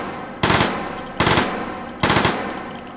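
A .455 Webley gun fires three short four-round bursts in the H3VR video game, each a loud, tight cluster of close blasts followed by a fading echo tail.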